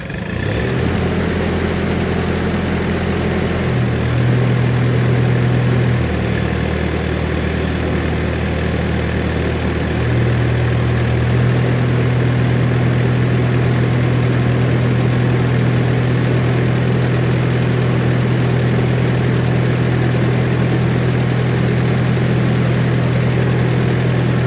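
A Hobart M5 generating unit driven by a Hercules flathead engine runs on test, idling close by with a steady, loud, low drone and a slight shift in pitch early on. No one speaks.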